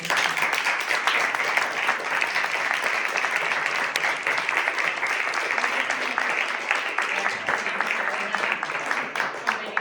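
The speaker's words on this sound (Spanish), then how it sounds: "Un fuerte aplauso, por favor." Loud, continuous applause from the audience at a book presentation in Madrid, many hands clapping densely and evenly throughout, with a brief dip near the end and no clear voices.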